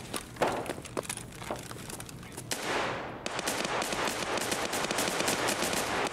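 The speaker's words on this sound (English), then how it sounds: "Can hear the pistols going at it from the other side" Rapid distant pistol gunfire rattles in the Escape from Tarkov video game, a thin burst of shots early on, then a dense continuous crackle of exchanged fire through the second half, with no talk.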